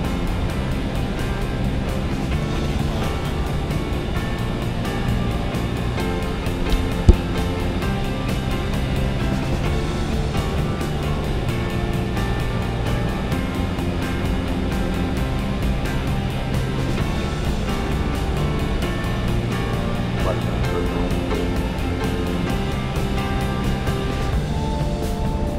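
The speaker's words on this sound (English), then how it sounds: "so we can hear that good approach noise as those engines spool back" Boeing 737-800 jet engines in the X-Plane 11 flight simulator drone steadily on approach, a loud, continuous roar with a layered engine hum that holds through the whole stretch, with no talk over it.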